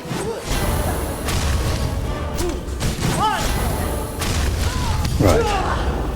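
Explosions in Hollow Knight: Silksong, a few sharp bursts and crashes with whooshes, loud over a dense rumbling game backdrop.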